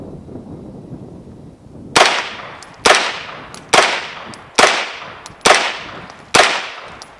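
Six sharp shots from an Extar EP9 9mm carbine ring out loud and close at an even pace, each crack trailing off in a short echo after a quiet opening stretch.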